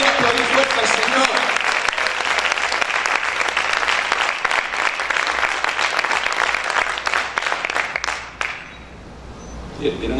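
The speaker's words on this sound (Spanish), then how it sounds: "¿Cuántos pueden aplaudir fuerte al Señor?" A church congregation claps loudly and steadily for about eight seconds, a dense crowd of hands that fades quickly near the end, with a voice speaking faintly underneath.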